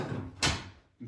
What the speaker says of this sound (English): Pull these clamps off, these weights